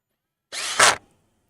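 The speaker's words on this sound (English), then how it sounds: "so you hear the clutch go?" A cordless power drill drives a wood screw while fitting a Floyd Rose push-in tremolo arm, with a short motor whir then a louder burst as the clutch slips, about half a second in all, close and alone.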